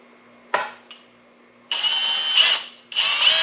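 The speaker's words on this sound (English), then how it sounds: "So I have 2 drills. This one's for my holes, and then that one's for the screws." Cordless power drill driving screws into pallet wood: a short whir, a brief blip, then two long sustained bursts of motor whine as each screw bites in, close up with no talking.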